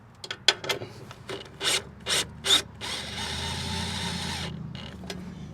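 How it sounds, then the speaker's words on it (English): A socket wrench works bolts on an RV spare-tire mount: a run of quick ratcheting clicks and several short rasping strokes, then a longer continuous grinding rasp, close up with no talking. "I'm just going to use a socket wrench to come in here like this and just hand tighten them"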